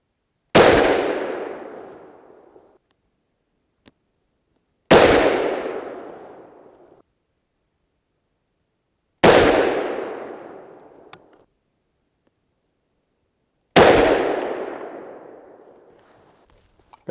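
Four evenly spaced 7.5x55 Swiss rifle shots firing Hornady SST handloads ring out outdoors, each a loud sharp crack with a long decaying echo, separated by several seconds of near silence.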